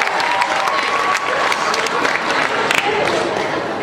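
Audience at a mariachi performance breaks into dense, steady applause, close and loud throughout, with some cheering and voices mixed in.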